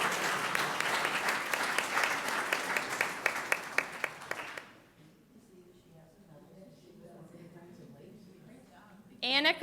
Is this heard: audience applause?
yes